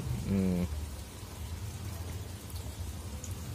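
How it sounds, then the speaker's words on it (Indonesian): Light rain patters softly on uncovered hydroponic lettuce in an open-air garden, a faint, steady drizzle hiss with a brief low rumble near the start. "tapi masih ada hujan sedikit-sedikit"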